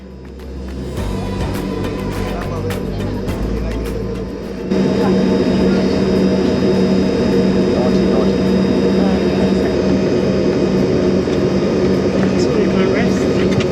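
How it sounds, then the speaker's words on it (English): Airliner jet engines spool up and then run at a steady roar, heard from a passenger seat inside the cabin on a domestic Nigerian flight. The sound is loud and continuous and grows fuller partway through, with no speech. "It was then time to turn on the engines, and that's where my seat came in handy, listening to the beautiful sound."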